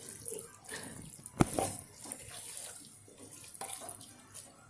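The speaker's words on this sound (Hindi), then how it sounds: "3 गिलास में पानी गर्म किया और ये ऐड कर दिया मैंने" Hot water poured into goat meat (gosht) in a clay pot (handi/matka), a steady running splash with a brief louder gush partway through, close by, no talking.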